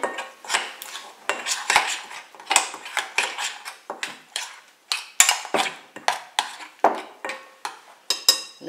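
Carrots being mixed with soy sauce in a bowl, a utensil clattering and scraping against the dish in a steady run of quick, fairly loud strokes with no talking.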